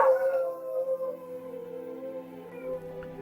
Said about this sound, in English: My dog hates the ice cream man, and the only thing that calms him down is if I howl with him.